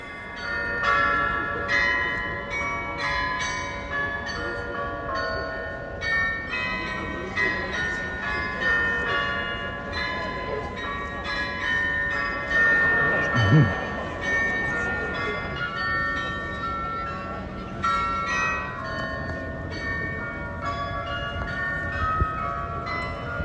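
Munich Glockenspiel bells playing a continuous melodic chime, bright ringing tones overlapping and sustaining, heard from street level with a faint background murmur.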